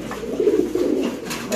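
Fancy pigeons in a pigeon market coo in soft, throaty, repeated murmurs, close by over a brief moment.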